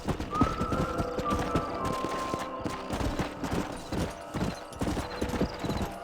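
Steady clip-clop of horse hooves trotting over hard ground in the video game Red Dead Redemption, with a brief whinny and a busy game soundscape behind.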